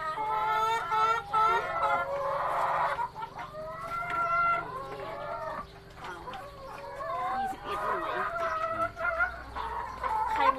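Laying hens cluck and squawk continuously inside a coop, with overlapping close and distant calls and a rooster-like cry among them, and a voice is briefly heard beneath the flock.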